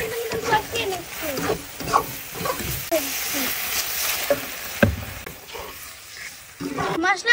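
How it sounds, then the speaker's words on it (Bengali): Ginger and cumin spice paste sautés in a pan for a dried fish curry, giving a close, uneven sizzle broken by scraping stirs, with sharper clatter near the end. "তো এবার মশলাটা আমি সুন্দর মতন কষিয়ে নিচ্ছি"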